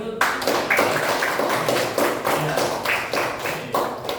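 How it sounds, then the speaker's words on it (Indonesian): A class of children claps their hands together, a dense, steady patter of many quick overlapping claps that carries on throughout at an even, fairly loud level. "Oke, baru tepuk tangan."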